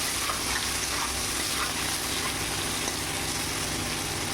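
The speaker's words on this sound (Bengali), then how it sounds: "চিংড়ি মাছের মধ্যে আমি একটু সামান্য নুন দেবো আর একটু হলুদ দিয়ে দেবো, দিয়ে আমি চিংড়ি মাছটা ভেজে নেব।" Prawns seasoned with salt and turmeric fry in hot oil, giving a steady, hissing sizzle that runs on without pause.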